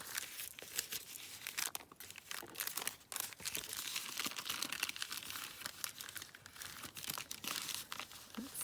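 Brown paper bags crinkling and tearing as they are folded into an envelope, a close, continuous run of crackles and rustles with uneven bursts and brief pauses, no speech.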